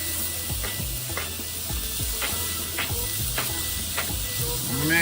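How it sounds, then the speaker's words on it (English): Steak and chopped onion sizzle on a grill, a constant hissing fry broken by repeated metallic scraping strokes of a spatula roughly every half second. "when that steak cook with the onion"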